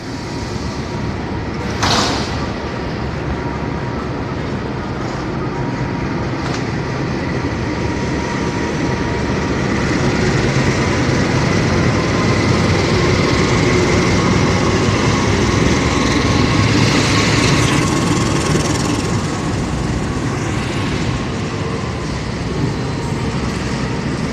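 An official special train rolls through Manggarai station, a loud, steady rumble and clatter of rail cars for the whole stretch, with a brief high screech near the start and no voices.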